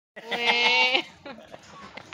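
A goat gives one loud, close, wavering bleat, followed by softer rustles and short sounds.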